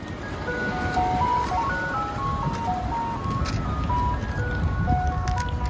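A tinkling ice cream truck jingle plays a simple repeating melody over a steady rumble of traffic and engine noise.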